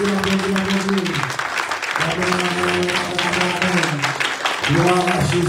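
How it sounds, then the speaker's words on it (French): Congregation clapping during a Sunday worship service in church, steady applause under continuous singing or chanting voices with sustained tones throughout. "Applaudissez le Seigneur."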